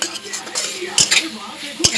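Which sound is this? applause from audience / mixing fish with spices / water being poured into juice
mixing fish with spices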